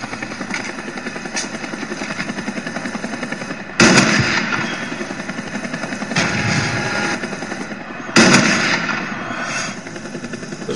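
Video game gunfire: loud, sharp shots punctuating a dense, continuous roar of battle noise, with two especially heavy cracks standing out and smaller reports scattered between them.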